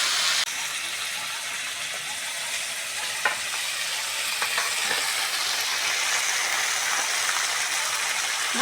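Rice tipped into a hot pan of already-fried vegetables for prawn fried rice sizzles loudly and steadily, with a few scraping stirs and clicks of a utensil over the continuous hiss.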